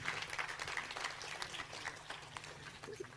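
An audience at a World Milk Day 2024 dairy event claps for a speaker, a faint, scattered patter of hands heard from a distance over a low background hum.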